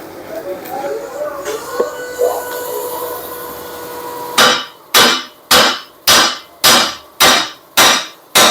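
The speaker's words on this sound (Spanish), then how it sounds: "luego los rematamos con el martillo" A hammer pounds the weld edges on a broken leaf spring from an International Durastar 4300 truck: after a quieter stretch of faint workshop noise, eight loud, evenly spaced metallic blows ring out close up.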